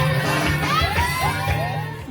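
Cheering crowd at a wedding in a Gabon town hall: a close, dense burst of whoops and shouted voices, steady and loud throughout with no clear pause.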